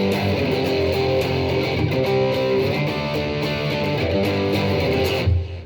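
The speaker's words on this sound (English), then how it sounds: "if you've got an overdrive or a distortion pedal, it could sound something like this" Electric guitar power chords played through an overdrive or distortion pedal, a dense, steady wall of driven chords that ends abruptly with a short thump.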